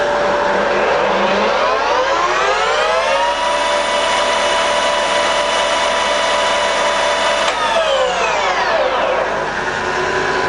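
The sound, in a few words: Colchester Mascot 1600 center lathe running in reverse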